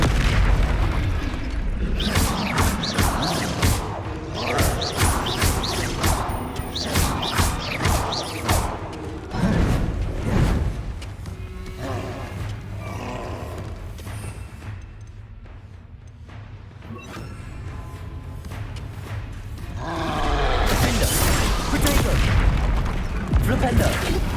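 Confringo spell blasts in the video game Hogwarts Legacy, a long sequence of loud, sharp booms and bursts mixed with mechanical clanks, dipping briefly before a fresh volley of explosions, with speech in places.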